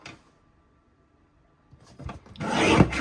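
A paper trimmer slices through a sheet of white linen cardstock, a short rough scraping stroke that builds loudly at the end after near silence.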